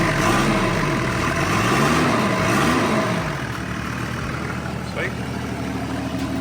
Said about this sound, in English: So you can hear where the exhaust is missing